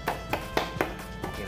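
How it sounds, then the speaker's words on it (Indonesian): Hands tap repeatedly on a cotton T-shirt during a sublimation-to-cotton makeover, giving about seven soft, evenly spaced pats, fairly close and quiet with no talk. "ketok-ketok seperti ini"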